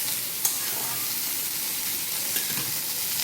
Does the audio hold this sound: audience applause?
no